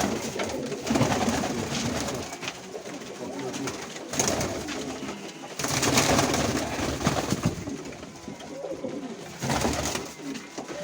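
Domestic pigeons of the Mykolaiv breed in Ukraine coo in repeated low, throaty, rolling phrases, several overlapping, close by, with brief pauses between bouts.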